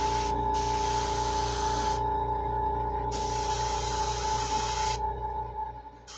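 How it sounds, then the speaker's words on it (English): Airbrush spraying copper paint through a mesh stencil onto a fishing lure, with two hissing bursts of spray over a constant compressor hum. "I'm gonna spray over the brown with this copper color."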